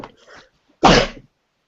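A single loud, close sneeze bursts out after a brief soft breath, then silence.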